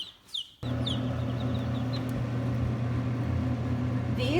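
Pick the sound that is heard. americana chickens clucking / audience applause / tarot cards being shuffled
americana chickens clucking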